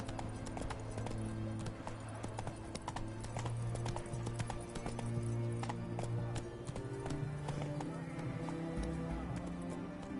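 Horse hooves in The Witcher 3: Hearts of Stone beat a steady, rhythmic clip-clop that runs continuously at moderate volume over low background game ambience.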